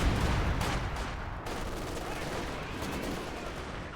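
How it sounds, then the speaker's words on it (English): An artillery barrage in a World War II strategy video game with T-34 tanks: a loud, dense wash of overlapping blasts and gunfire that is strongest at the start and rolls on steadily at a slightly lower level. "Another barrage."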